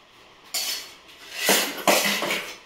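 Dishes and cutlery clatter and clink during washing up after a meal in a home kitchen, with sharp bursts of metal and crockery striking each other, building up loud and close with no talk.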